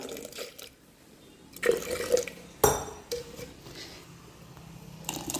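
Pieces of surmai fish are rinsed in a vessel of water, with splashing, dripping and sloshing, plus a sharp clank of a pot midway.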